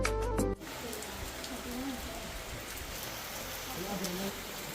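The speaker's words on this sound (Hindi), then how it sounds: "अचानक से बारिश लगी" Heavy evening rain pours down steadily near a family home in a village, a dense even hiss after a brief voice at the start.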